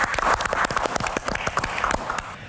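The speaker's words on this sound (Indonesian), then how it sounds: "Tepuk tangan." Audience applause at a health talk, a dense burst of hand clapping with uneven, rapid claps continuing steadily for a couple of seconds.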